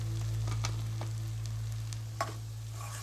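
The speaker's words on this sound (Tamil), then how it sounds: "இந்த மாதிரி ஒரு 2 நிமிஷத்துக்கு கலந்து விடுங்க." Tomato thokku with chili powder frying in a pan, a steady low sizzle throughout with a few faint scrapes of stirring, nothing else alongside.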